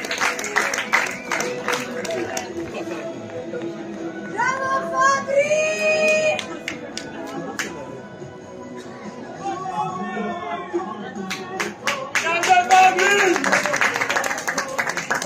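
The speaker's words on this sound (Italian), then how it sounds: "Chiamerei Fusi Fabrizio, applauso enorme." Applause and chatter at a team awards dinner in honor of a team official, scattered clapping from the tables mixed with crowd murmur and voices, swelling again toward the end.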